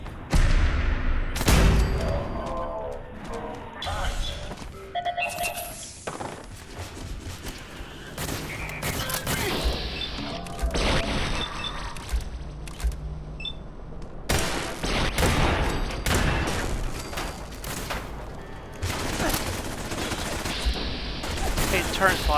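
Rapid bursts of automatic gunfire from a turret bot in Fallout 4 crackle loudly and repeatedly amid explosions and combat noise, with a player talking intermittently over the fighting.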